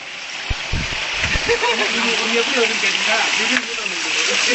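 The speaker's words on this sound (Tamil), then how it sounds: "தண்ணி ஊத்துறத பாக்குறீங்க." River water pouring and splashing over rocks at Killiyur Falls near Yercaud, a steady broadband rush heard up close under voices talking throughout.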